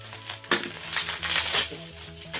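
Plastic wrapping around a package of motorcycle paddock bolts and bushings crinkles and crunches as it is pulled open, several close, loud rustling bursts in quick succession.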